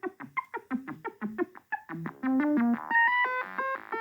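A synthesizer shaped by an ADSR envelope and filter, first a run of short, sharp plucked notes in a bouncy rhythm, then sustained brighter tones with a buzzy, resonant edge, played alone.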